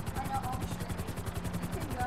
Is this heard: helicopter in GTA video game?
yes